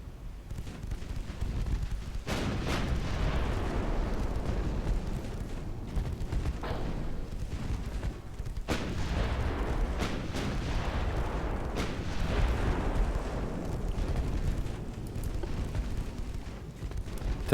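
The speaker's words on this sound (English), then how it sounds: "Straighten out again and get those guns firing." Naval guns firing in the warship strategy game Ultimate Admiral Dreadnoughts, repeated deep booming salvos every few seconds over a continuous low rumble of battle.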